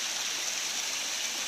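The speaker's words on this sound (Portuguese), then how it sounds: "Uma das quedas d'água aqui da Cachoeira do Mendanha," Mendanha waterfall in Bangu pours in a steady, close rush of falling water, a broad unbroken roar with no other sounds over it.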